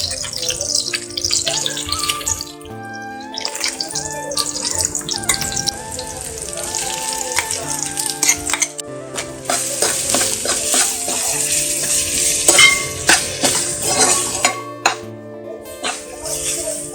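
Ground spice paste for banana flower curry frying in a pan, with steady sizzling and stirring scrapes layered under a continuous background melody, staying fairly loud throughout.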